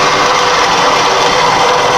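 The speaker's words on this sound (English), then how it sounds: "I'm sawing" A small Craftsman power saw whines steadily and loudly, cutting metal continuously for the whole stretch without pause or speech.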